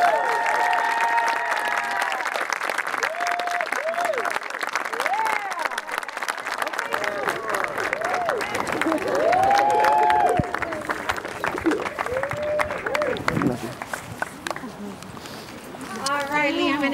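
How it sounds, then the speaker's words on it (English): Wedding guests applaud after the couple is pronounced husband and wife, a sustained crowd clapping with cheers running throughout, while voices and bursts of music-like tones rise and fall under and over the noise. "we should all applaud"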